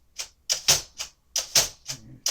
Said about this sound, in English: There's a few like push buttons that you slide around to where you want to set the tab.